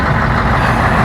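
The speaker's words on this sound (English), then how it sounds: "let's just start up this Scania V8" A Scania V8 truck engine idling loud and close, a steady deep rumble with a rough low throb that holds without a break.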